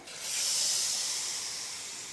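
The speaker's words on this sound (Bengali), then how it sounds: "এবারে যে ছেঁকে রেখেছিলাম গুড়ের জলটা ওটা আমি দিয়ে দেব কুলের মধ্যে" Strained jaggery water poured onto jujubes cooking for a village-style pickle sets off a sudden loud hiss that swells quickly and then slowly eases, close and without voices.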